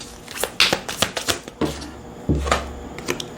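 Oracle cards shuffle and slap onto a tabletop in quick irregular bursts of papery riffles and soft taps, close and fairly loud, with no talking.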